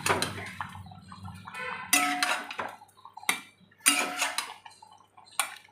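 Eggs are lowered gently one by one into a cooking pot for an egg and potato curry, making four sharp clinks and knocks separated by short pauses in a quiet kitchen.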